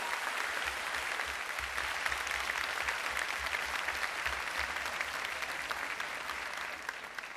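A television studio audience applauds as a band is welcomed onto the show, a thick, continuous roar of clapping with a low rhythmic thud running underneath throughout.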